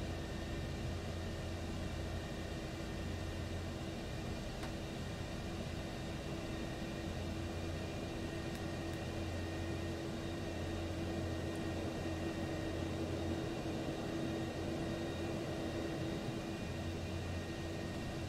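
Steady, loud jet engine roar from a McDonnell Douglas F-4 Phantom II in Microsoft Flight Simulator, a constant broadband rumble with a low drone and faint whine holding evenly throughout with no talk.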